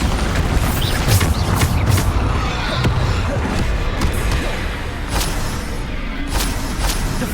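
Bombarda explosion spells from Hogwarts Legacy boom again and again through a busy combat din. Several sharp thumping impacts land at uneven intervals over steady noise, each one loud and close.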